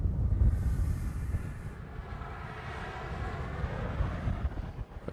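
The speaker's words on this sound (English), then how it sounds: "It's very gusty out here right now, so I can't do much about the wind noise." Strong gusty wind buffets an outdoor microphone at a Honolulu airport spotting spot, a continuous loud low roar that swells and dips over several seconds with no one speaking.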